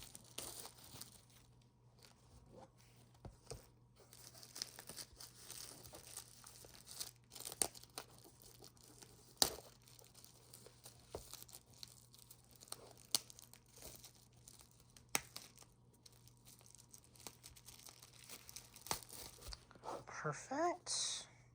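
Plastic wrapping is peeled off Apple Park merchandise in soft, scattered crinkles and tearing rustles, quiet and close, with a louder crumple at the end and talk at times.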